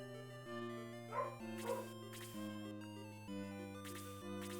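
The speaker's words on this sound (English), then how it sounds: "There's my dog going off. Recognize his bark anywhere." A dog barks a few times in the distance, yelping bursts rising over steady electronic video game music that plays throughout.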